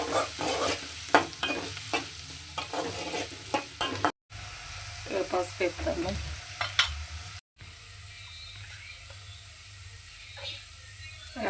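Vatichepala fish curry sizzling in hot oil in a pan, with frequent scraping stirs and a steady hiss that cuts out briefly twice. A voice speaks over it now and then.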